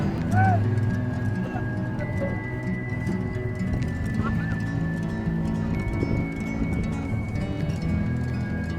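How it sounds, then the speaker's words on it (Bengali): Horse sounds with clopping hooves and a brief whinny amid steady outdoor background noise and people chatting nearby on Laboni Beach, Cox's Bazar. "অনেক লম্বা ঘোড়া"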